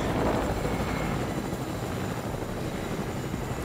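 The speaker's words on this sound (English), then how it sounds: "You can get your own chopper in there" Helicopter in a video game, its rotor chop and engine roar forming a broad, steady wash of noise that fades slightly after the first moment, fairly distant and continuous, with no talking.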